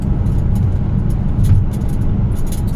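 Steady low road rumble from inside a car being driven to a job, continuous and fairly loud with no talking over it.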